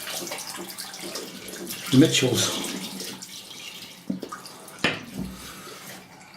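Water tap running into a sink to wet a shaving brush, a steady splashing flow with a few louder bursts, while someone speaks briefly over it.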